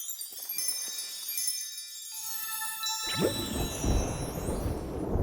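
Cartoon thunderstorm from a children's animated show: after a quiet musical opening, a loud broadband rumble and crash breaks in around midway and keeps rolling to the end, with a bright tinkling music sting layered over it.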